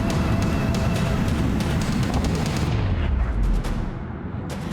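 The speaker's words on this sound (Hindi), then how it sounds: "जितनी बार धमाके हुए उतनी बार आग की लपटें उठी।" A dense barrage of booming bomb explosions and crackling bangs from an airstrike rumbles continuously at a distance, with heavy low rumble throughout.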